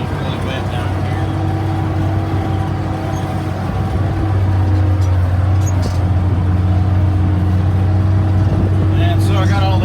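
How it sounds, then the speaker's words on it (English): A combine harvester bogging down as it drives through a wet field, with a loud, close, steady engine drone that deepens and strains partway through under constant mechanical rumble. "Feel the combine bogged down when I'm trying to drive through it."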